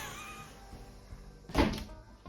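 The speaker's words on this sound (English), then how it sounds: "You shut the door." An indoor door is pushed shut with a single muffled thud near the end, preceded by faint quiet room sounds and no speech.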